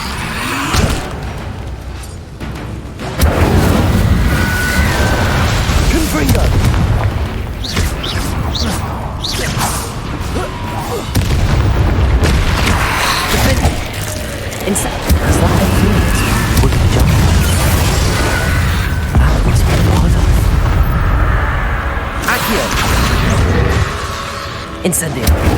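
Combat in Hogwarts Legacy, with Confringo blasting spells setting off repeated booming explosions and whooshing spell casts. Dense crashes and impacts run continuously and loudly, while voices call out spells over the fight.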